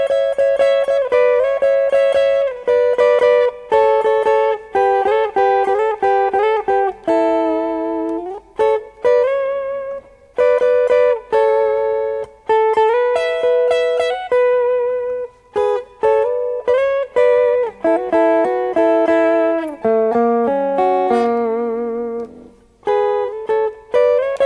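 A guitar plays a song's solo, a lead line of clear sustained single notes and bends with brief gaps between phrases, loud and close with no talking.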